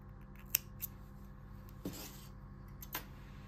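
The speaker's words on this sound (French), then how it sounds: "et on peut couper le fil." Scissors snip through crochet yarn while a headband is finished, giving a few faint, isolated cuts spaced out over a quiet background with a low steady hum.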